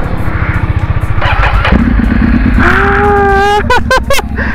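A motorcycle, left in gear, cranks with a rapid chugging starter, then catches and revs up loudly close by, the engine note rising and settling into a rough idle.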